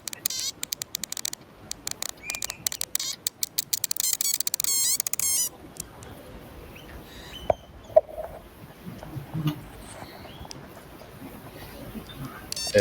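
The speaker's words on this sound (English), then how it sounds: "You can hear the birds responding to this." Birds call back to buzzing solar-modulated electronic sound modules outdoors; dense insect-like clicking fills the first five seconds, then scattered chirps and faint calls continue over quiet ambience.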